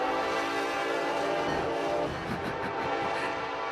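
A loud, sustained train horn blast played as a sound effect on a band's livestream, a dense multi-tone blare lasting several seconds with a rumbling rail background and no voices.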